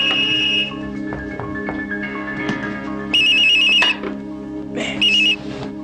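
A mobile phone ringtone sounds in three short electronic bursts separated by pauses, loud and close, over a steady tonal background.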